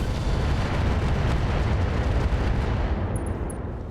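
A RogueTech (BattleTech) mech firing AX rounds: a loud, dense roar of explosive impacts that runs unbroken and then tapers off near the end.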